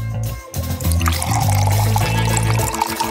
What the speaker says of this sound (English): Probably you need to pour milk on it.